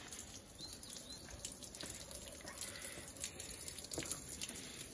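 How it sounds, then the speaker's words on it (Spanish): A thin trickle of water falls from the Cerrada fountain in Montanejos, a faint continuous pattering and dripping, with birds chirping softly in the background. "Poca agua la que está cayendo."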